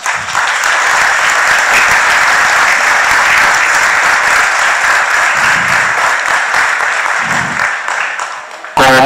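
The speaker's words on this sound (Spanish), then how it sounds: "Yo le pediría, por favor, que le brindemos un fuerte aplauso a don Rubén Vivar." A church congregation at Mass gives sustained, loud applause that fills nearly the whole stretch before cutting off abruptly at the end.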